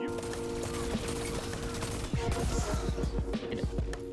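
Rapid bursts of gunfire in the video game Destiny 2, a dense string of sharp repeated shots in the second half over a steady mechanical game background.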